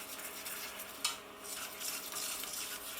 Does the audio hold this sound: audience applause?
no